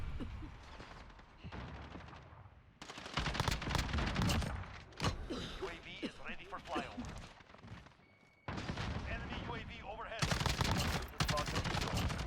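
AUG rifle fire in Call of Duty Modern Warfare free-for-all match, dense bursts of rapid automatic shots with brief gaps, loud and close, with some talking mixed in.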